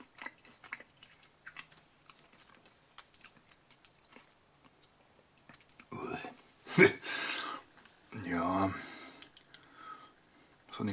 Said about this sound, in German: Das ist richtig schwer zu kauen, so trocken auch.